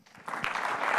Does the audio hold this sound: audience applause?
yes